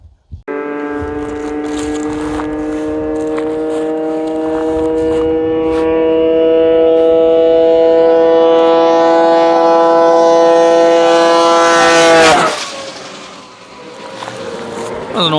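An old Dodge Viper at a drag race runs hard and close, its engine note climbing steadily through one long gear with strong harmonics before a sharp cutoff near the end.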